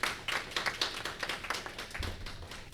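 Audience applause at a community book launch for an African American studies book: a modest crowd claps in quick, uneven patters that fade slightly toward the end, with no speech over it.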